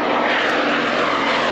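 Piston-engined warbirds roar overhead at an airshow, a loud, dense, continuous engine drone close by that swells and then cuts off sharply at the end, with no voices.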